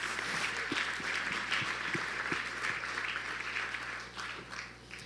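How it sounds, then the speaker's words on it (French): An audience at a morning opening conference applauds Charles Pépin as he joins the stage, moderate, fairly distant clapping from a large room that holds steady, then thins toward the end. "Vous pouvez l'applaudir, hein, ça met en jambe le matin."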